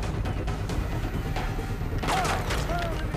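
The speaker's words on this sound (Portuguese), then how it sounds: "Quem tá atirando?" Dense gunfire rattles in a Far Cry 3 firefight, a continuous loud barrage of overlapping shots with a brief voice cutting through midway.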